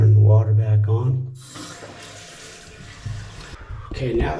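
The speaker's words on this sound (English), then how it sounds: "Turn the water back on." Water rushes and hisses steadily into a toilet tank once the supply is turned back on, close and fairly loud, following a brief bit of speech at the start.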